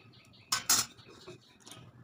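Cabbage stirred with salt and turmeric in a pan, giving two quick close metallic scrapes and clatters of a utensil against the pan, then a softer knock, over quiet background.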